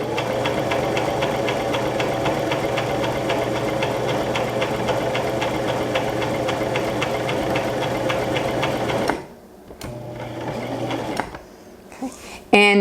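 A Brother LX3817 sewing machine stitches a buttonhole in a steady rapid mechanical whir for about nine seconds, close and loud, then stops, leaving a few quieter clicks and handling sounds.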